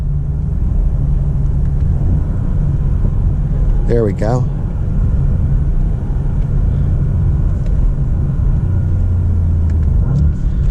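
Bentley Continental GT V8 Convertible engine running while driving, a steady low rumble throughout with a brief rising whine mid-way and a short spoken remark over it.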